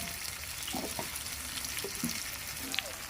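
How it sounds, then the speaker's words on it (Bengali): Onions frying in hot oil with tempered whole spices for a Bengali banana and fish curry, a dense continuous sizzle with occasional stirring clinks, close up and alone. "ফোড়নটা ভাজা হয়ে গেলে দিয়ে দেবো পেঁয়াজ।"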